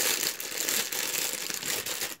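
A small plastic packet holding makeup brushes crinkles steadily in the hands, a close, continuous rustle with no talk over it.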